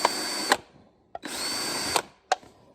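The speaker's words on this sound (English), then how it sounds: "I take 1 cup, and I just drill holes in the bottom" A power drill bores holes through the bottom of a plastic cup in two sustained whirring bursts, each ending with a sharp crack, close and loud, followed by a brief final burst.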